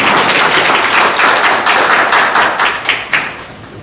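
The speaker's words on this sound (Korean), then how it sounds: "교수님께 다시 한 번 더 큰 박수 부탁드리겠습니다" Audience applause at the close of a security lecture by Dr. Kim Il-gi in Geochang, with dense, loud, steady clapping that tapers off toward the end.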